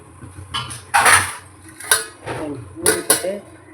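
A lid goes onto a cooking pot of anchovy puttu, with a few sharp metallic clanks and clatters of pot and utensils at close range, spaced across a few seconds.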